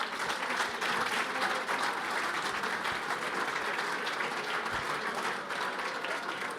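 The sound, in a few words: audience applause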